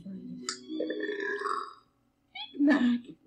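A cartoon pony character lets out a short belch midway, then a second louder, deeper burp near the end, with a quiet gap between them and a voice speaking early on.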